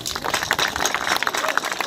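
Audience applause at the opening of a skate park, honoring the artist behind a mural installation: a dense, continuous wash of many hands clapping outdoors, steady and fairly loud throughout.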